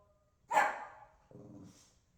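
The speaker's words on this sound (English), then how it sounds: "Barking about another dog?" A dog barks once, near and sharp, followed by a lower, shorter woof, with nothing else around it.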